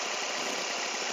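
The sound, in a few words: idling engine of a 2005 Toyota Vios Limo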